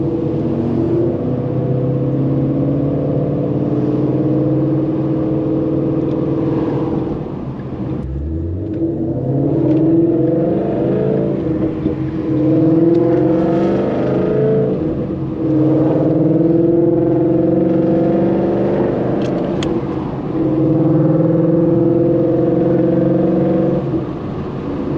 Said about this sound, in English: There is an exhaust leak though, still, but it's because of me.